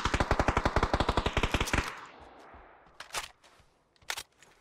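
Rapid automatic rifle fire in PUBG on the Deston map, a fast even burst of about fifteen close shots, then quiet footsteps and a couple of faint clicks.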